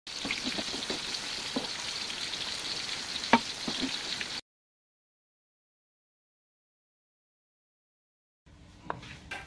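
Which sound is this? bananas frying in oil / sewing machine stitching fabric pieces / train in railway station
bananas frying in oil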